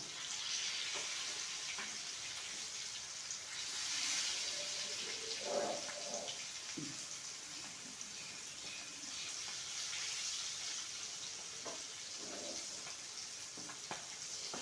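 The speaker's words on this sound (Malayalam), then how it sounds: "നമ്മൾ കുറച്ച് എണ്ണ അധികം ഒഴിക്കൊണ്ടേ മോൾ ഭാഗം വെന്തിട്ടുണ്ടാവും" Kerala-style fish fry sizzles steadily in hot oil, a continuous crackling hiss with occasional soft clinks of utensils, moderately close and with no talk.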